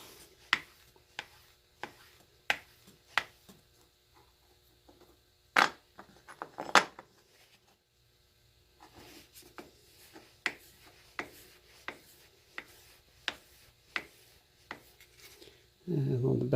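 A knife edge is worked against jeweler's rouge on a strop, making a series of light, rhythmic rubbing strokes with short pauses between them, close and fairly quiet.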